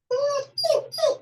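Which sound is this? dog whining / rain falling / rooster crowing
dog whining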